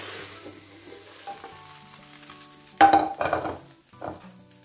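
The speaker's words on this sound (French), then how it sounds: "Et on va tourner la poêle." Frying pan of sardines, covered with baking paper and a plate, is flipped over: steady sizzling of frying fish, then a louder clatter and scrape of pan and plate midway, followed by a couple of softer knocks.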